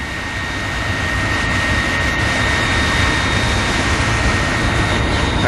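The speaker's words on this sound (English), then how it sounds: "This is my raku kiln. It's gas-fired, natural gas from my house." A natural-gas-fired raku kiln burning in a steady, unbroken roar, loud and close with a constant rushing hiss and low rumble, no voices.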